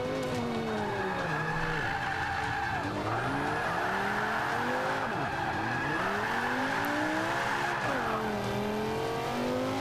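A tuned Lamborghini drifts in the racing game Forza Motorsport 5, its engine howling and sweeping up and down in pitch over continuous loud tire squeal, with revs dropping and climbing again through the slide.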